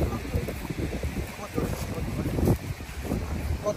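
Wind blows across Maravanthe Beach during beachside cooking, a steady rumbling roar against the microphone, with a voice talking over it.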